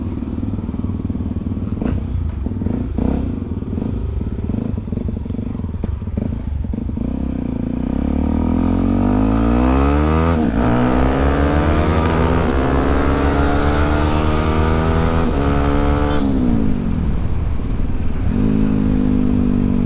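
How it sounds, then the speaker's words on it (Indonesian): Motorcycle exhaust on a night ride revs repeatedly, the deep bassy engine note rising and falling in pitch through several loud pulls and dropping back, close and continuous with no talking. "Jadi gitu suaranya, suara knalpotnya."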